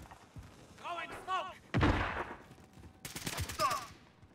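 Gunfire in Modern Warfare, with a sharp loud burst followed by a second shot a little over a second later, both among short voiced calls.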